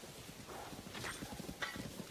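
Horse hooves clip-clop in a Zelda video game, a handful of soft steps at moderate distance with a couple of brief sharp effects layered over low background game ambience.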